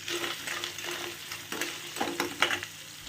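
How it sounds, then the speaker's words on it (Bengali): Rock sugar crystals stirred slowly in a pan over a low flame while cooking hog plum with poppy seed paste, giving soft repeated scraping and faint sizzling with brief clinks, close and steady. "লো ফ্লেমে আস্তে আস্তে করে এটা নাড়তে থাকো।"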